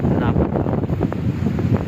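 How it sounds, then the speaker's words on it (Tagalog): Strong wind on the beach at Mararison Island roars steadily against the microphone, loud and constant, with a low rumble that may include surf underneath. "Alam niyo kung bakit maganda ngayon nga malakas yung hangin."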